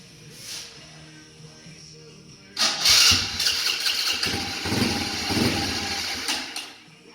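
A Kawasaki KFX 90 ATV engine cranks and catches after a quiet pause, then keeps running loud and close with an uneven, revving idle for several seconds.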